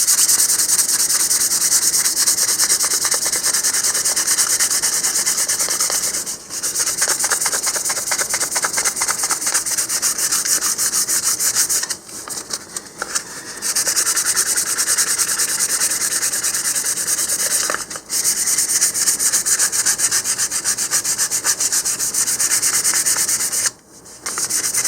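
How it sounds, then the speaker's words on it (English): Steady, continuous scratchy rubbing of 400 grit sandpaper across a model rocket body, close and loud, with a few brief pauses between long strokes. "I'm going to sand this with 400 grit sandpaper"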